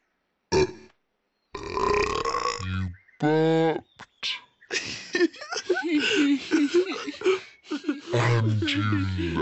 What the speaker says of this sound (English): You burped.